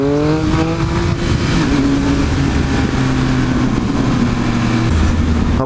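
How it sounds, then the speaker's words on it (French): Triumph Speed Triple 1050 RS motorcycle, a 2018 model, revving loudly and continuously up close, its engine note stepping down through a downshift with a quick blip of throttle, deep and steady without any talk. "Puis le petit shift down où vous avez le petit coup de gaz qui se remet."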